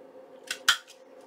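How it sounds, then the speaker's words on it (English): Scissors snipping paper for a junk journal pocket page, two quick close crisp cuts in a quiet room. "bring in my scissors and just trim this off"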